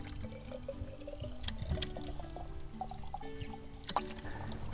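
Water runs from a flowing spout into a sample bottle, a steady close pouring and splashing with small clinks of the bottle against the stream.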